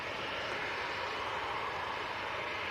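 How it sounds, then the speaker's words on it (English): A TUI airliner on final approach to land at Manchester Airport on a windy day, heard as a steady, broad engine roar that holds at an even level throughout, with no talk over it. "There was a TUI about to touch down, Tom."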